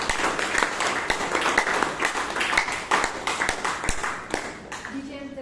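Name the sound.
audience applause for a speaker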